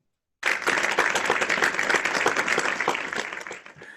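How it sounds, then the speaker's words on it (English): Audience applause at a Toastmasters club meeting, starting after a brief silence as a dense, steady patter of many hands that keeps going at an even level and eases slightly at the end. "getting a little trigger happy with the clapping there"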